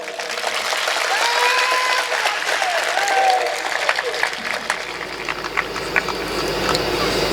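Audience applause at a speech about Chhatrapati Shivaji Maharaj, a dense sustained clapping that thins into scattered claps toward the end, with a low background hum.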